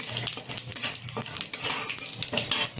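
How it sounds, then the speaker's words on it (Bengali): Whole cumin seeds frying in hot oil left over from frying rohu fish, a light crackling sizzle mixed with close metallic clinks of a spoon against the pan. "এখন এই তেলে দিয়ে দিচ্ছি কিছুটা গোটা জিরে ফোড়ন। ভালোভাবে জিরেটা ভেজে নিচ্ছি।"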